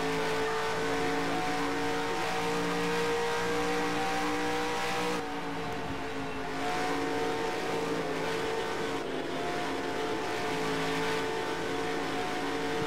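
A race car engine in the video game NASCAR Racing 2003 drones loudly and steadily, with a higher whine that rises and falls as the car accelerates and shifts, and no speech over it.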